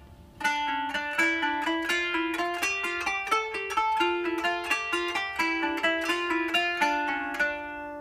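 A kanun plucked with a plectrum plays a combined step and jump exercise, a string of bright, clear plucked notes in an even rhythm, close and alone.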